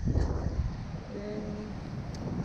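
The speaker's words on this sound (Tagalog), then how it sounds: "mahangin na" Steady wind buffeting the microphone on a small fishing boat at sea in rough waves, a constant low roar with faint engine hum underneath.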